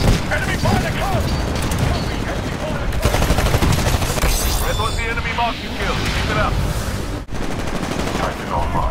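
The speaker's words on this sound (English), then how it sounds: "Enemy fire close!" Dense enemy gunfire in Titanfall, with rapid automatic bursts and heavy impacts crowding together loudly and continuously, mixed with game sounds and voices talking over the fighting.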